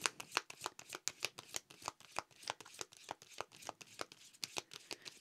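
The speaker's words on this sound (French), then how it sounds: "On va tirer des cartes plutôt." Tarot cards being shuffled by hand, a close, crisp run of quick riffling snaps and slaps in an irregular rhythm, with no voice over them.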